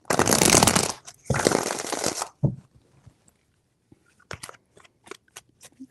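Tarot cards are riffled in two long, loud shuffles close by, then a series of soft taps and flicks as the deck is squared and cards are laid out.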